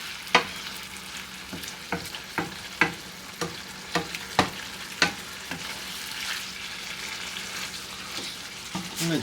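A spoon stirring a pinch of nutmeg into Bolognese sauce simmering with milk in a pan, with a soft steady sizzle under about a dozen sharp scrapes and taps of the spoon against the pan, close and without talk.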